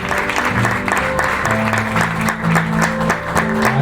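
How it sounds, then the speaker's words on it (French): An audience applauding at a graduation ceremony, steady close clapping from many hands under continuous background music. "Je vous demande de l'applaudir"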